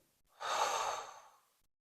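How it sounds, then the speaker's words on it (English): During a breathing exercise, a single slow breath is drawn in through the nose and let out through the mouth, a soft, close airy rush that swells and fades over about a second. "Last one, inhale through the nose and out."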